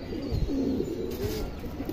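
Indian high-flyer pigeons coo in a loft, a low, continuous bubbling murmur of several birds heard close and fairly loud.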